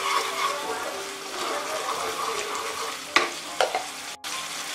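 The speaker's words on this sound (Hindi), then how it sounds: "आप देख रहे हैं ग्रेवी में अच्छा उबाल आ रहा है, ग्रेवी हमारी बॉईल हो रही है।" Kashmiri dum aloo gravy of potato curry bubbles and sizzles in a pan while being stirred, a steady close hiss broken near the end by a few scraping knocks of the spoon.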